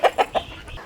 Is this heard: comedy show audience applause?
no